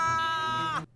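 A cat meows in a film scene, a single drawn-out, loud, close meow lasting nearly a second and then cutting off abruptly.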